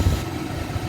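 A 1999 Chevrolet Tahoe engine idling smoothly and quietly, a steady low rumble heard alone for about a second.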